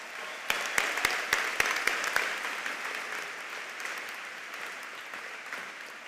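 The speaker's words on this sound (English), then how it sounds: "A round of applause for all of our learners." A crowd at a high school commencement ceremony applauds its graduating learners, a few sharp, distinct claps rising into a broad, sustained round of applause that holds steady and slowly thins out.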